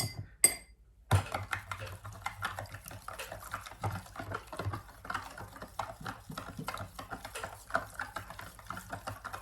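Rapid clicking and tapping of a utensil against a container as green marbling paint is stirred, steady and close, after a brief pause near the start.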